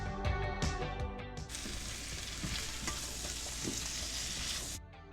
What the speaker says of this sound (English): Toss in your onions and mushrooms and cook until they begin to soften.